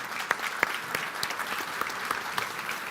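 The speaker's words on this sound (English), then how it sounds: "let's have a round of applause for those present" Audience at a panel discussion applauding, a brief patter of clapping from a modest crowd, moderately distant and fairly even throughout.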